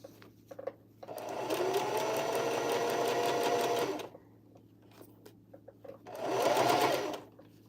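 A sewing machine runs a seam on a bucket hat in two bursts of steady, close whirring stitching: a long run of about three seconds, a pause with small clicks and handling noises, then a shorter second run.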